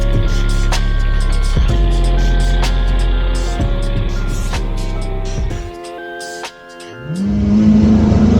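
A 1500 hp Mitsubishi Evo 6 running 85 psi of boost revs hard and close, its engine climbing in steady tones with sharp pops, then dropping off before rising again in a high whine.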